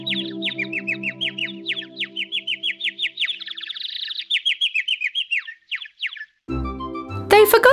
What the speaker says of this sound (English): The bird chirped songs with its beautiful voice for them.